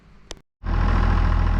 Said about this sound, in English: Just sitting there idling as nice as it could idle. Love the way that tractor sounds.